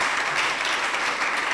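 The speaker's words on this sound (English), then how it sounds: "Let's give them a round of applause for that." Audience at a school greening event applauds the EPWP workers, a short, steady burst of dense clapping at moderate level.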